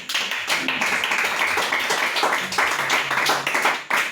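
Congregation at a church service clapping together to acclaim Jesus Christ, a dense, steady rhythmic handclap filling the room for several seconds, with faint voices underneath.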